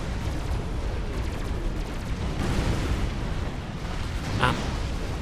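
A bomb drops and explodes in the real-time strategy game Supreme Commander: Forged Alliance, a dense rumbling blast with a brief whistling burst near the end, layered over constant battle noise.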